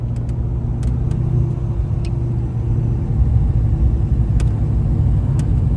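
A Fox Body Mustang swapped with a supercharged Ford GT500 engine runs at a steady, close, heavy idle with a low rumble and sharp intermittent ticks over it, with no talk.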